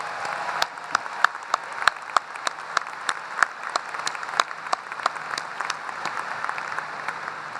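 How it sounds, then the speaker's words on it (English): Crowd applause rings out for graduates, including doctoral degree recipients, at an August 2014 university commencement, a steady patter of many hands clapping with sharp individual claps popping out, moderately loud and sustained throughout. "Let's give them a round of applause."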